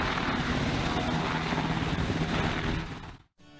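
An Army Reserve aviation helicopter flies close by, its loud rotor and engine drone thumping steadily for about three seconds before cutting off abruptly.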